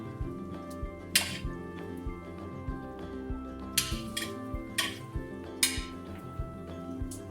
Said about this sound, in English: Just stir this all around.